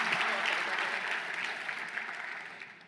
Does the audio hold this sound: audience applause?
yes